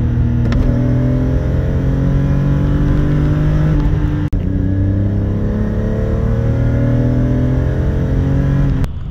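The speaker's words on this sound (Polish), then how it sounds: "a silnik pięknie wkręca się na obroty" A BMW M5 E34 engine, the S38B38, revs up repeatedly through the gears while driving, pitch climbing and dropping with each shift, loud and close, with road noise underneath.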